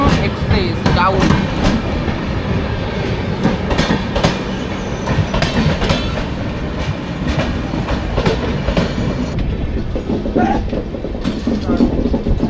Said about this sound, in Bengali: পুরুষোত্তম বললাম না Purushottam express. Purushottam express down.